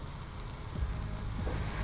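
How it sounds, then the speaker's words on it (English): A pan of browning butter deglazed with sake hisses in a steady, broad sizzle with a few soft bubbling pops, close and fairly quiet, no talking. "Before that butter colors too much, I want to deglaze the pan with some alcohol."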